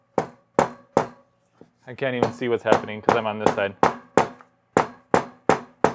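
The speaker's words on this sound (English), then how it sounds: "I'm also hammering at a very strange angle." A hammer strikes an Ultegra Di2 12-speed part into a bicycle frame in a string of sharp, loud metallic blows at an uneven rhythm, pausing while someone speaks close by.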